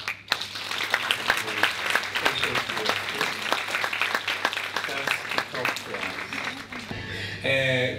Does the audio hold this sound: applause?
yes